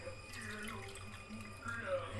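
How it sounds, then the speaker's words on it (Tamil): Water poured from a cup into a ragi flour mixture for halwa, a steady close trickling splash that swells toward the end, with faint background noise. "இது கூட மேற்கொண்டு நான் 2 கப்பு தண்ணி சேர்க்க போகிறேன்."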